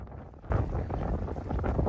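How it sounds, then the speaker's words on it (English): Strong wind in a blizzard roars and buffets against the microphone, a dense low rumble that swells suddenly and stays loud throughout. "it's gonna be really windy today too"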